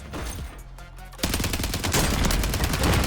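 Rapid automatic gunfire in Warzone, a Call of Duty battle royale, starting quieter and then becoming a steady, loud stream of close shots with faint background voices.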